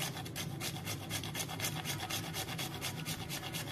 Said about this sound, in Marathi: साधारणपणे पाव भाग मी जायफळाचा किसला आहे.